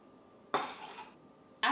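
Cranberry and pomegranate juice splashes into a shot glass in a short, close pour lasting under a second, followed by a quiet pause and the start of another brief pour.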